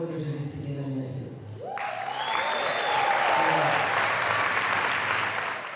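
An award ceremony audience breaks into applause after a voice speaks, loud sustained clapping that swells and carries on steadily to the end.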